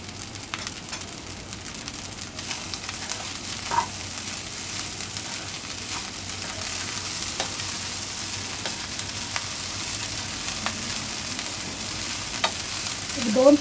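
Spiced rice with coriander stir-fried in a pan as phodnicha bhaat, with a steady close sizzle and occasional scraping stirs throughout, no talking.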